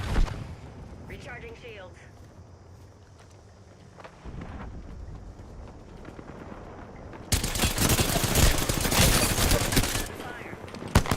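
Heavy Apex Legends gunfire erupts loud and sustained in the second half, dense rapid bursts after a quieter stretch of scattered game sounds, with a character voice line and player talk mixed in.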